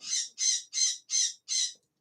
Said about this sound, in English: Excuse my angry bird.